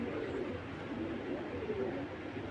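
Giribaz flying pigeons, a high-flying tournament breed, cooing close by in a low, steady, murmuring burble that continues without pause.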